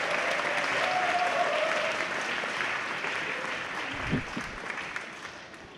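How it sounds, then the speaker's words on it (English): An audience at a school Year 12 awards ceremony gives a sustained round of applause, dense even clapping that gradually tapers off. "let's give them another round of applause"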